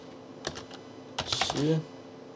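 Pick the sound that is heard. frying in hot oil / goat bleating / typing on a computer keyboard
typing on a computer keyboard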